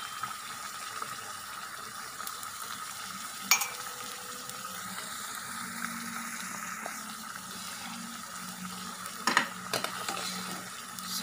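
Sugar syrup being stirred with salt for rambutan pickle, a soft, continuous liquid swishing and light bubbling heard close and alone, with a couple of brief clinks of utensil against pot.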